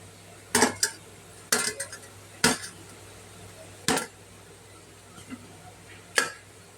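A metal pick pokes and lifts kuzhi paniyaram out of the pan, making five or six sharp, close metallic taps and scrapes with quiet pauses between them.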